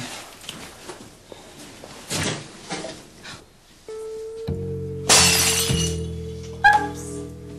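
Glass crashes and shatters loudly indoors in a few sharp bursts, followed by ringing, tinkling fragments and a lingering resonant hum, without talking over it.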